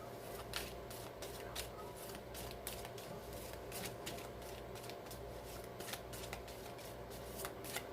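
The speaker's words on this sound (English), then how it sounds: "please provide Virgo with the Romance Angel Oracle card to focus on for February 7th, 8th, and 9th" Romance Angel oracle cards shuffled continuously up close, a soft papery rustle with frequent light flicks and taps running throughout, no voices.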